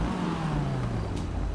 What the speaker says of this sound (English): I'm going to start the engine one more time